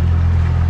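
Engine idling on a hydrofoil-equipped boat after warming up, a loud steady low rumble held without change for the brief moment.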